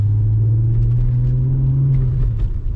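Deep, steady exhaust drone from a VW MK4 R32 with its V5 engine, running without a mid pipe, holding a low, loud, continuous rumble that barely changes pitch.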